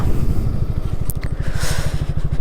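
A motorcycle ridden on a foggy winter road, its engine throbbing in a steady low pulse with a continuous rumble and brief wind noise, close and fairly loud throughout.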